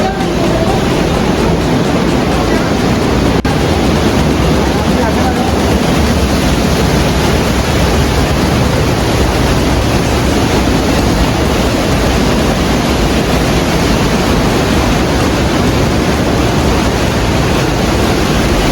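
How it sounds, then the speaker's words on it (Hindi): Water rushes into a pump house tank at the Shakambhari Mata temple in Sambhar, a loud, constant roar that fills the whole stretch without letting up. "बहुत तेज आवाज़ आ रही है, पानी की आवाज़"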